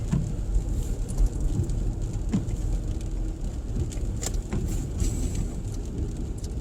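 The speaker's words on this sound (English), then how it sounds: "I'm just making sure because it is raining" Rain falls steadily on a car stopped at an intersection, a continuous close hiss scattered with sharper drop impacts, heard without talking.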